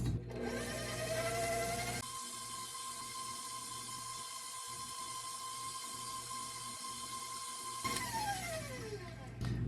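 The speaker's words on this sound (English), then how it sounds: "Stop and scrape down your mixer a couple times." An electric mixer whips low carb brookie batter with a steady, fairly loud motor whine that starts about two seconds in, holds evenly, then winds down in pitch near the end. No one speaks.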